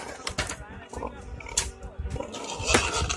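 Loud, repeated squeals and grunts from a nearby lactating sow awaiting feed, rising and falling in bursts, with a person talking over the noise.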